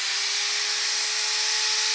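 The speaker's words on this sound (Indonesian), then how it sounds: "Sekarang yang bor kita hidupkan" Electric drill switched on and running, a steady high-pitched motor whine with a constant tonal hum, loud and unbroken throughout.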